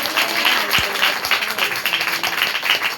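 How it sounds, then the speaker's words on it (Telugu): Applause from an audience at a Telugu Christian sermon, a dense steady patter of many hands clapping throughout, loud and continuous without talk. "మీకు చేతులు ఉంటే చప్పట్లు కొట్టుంది"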